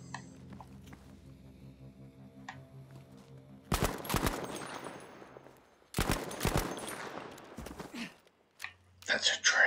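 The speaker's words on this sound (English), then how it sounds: "There's gunfire." Two loud bursts of rapid gunfire crackle from a game, separated by a few seconds, with quieter clicks and background sounds between.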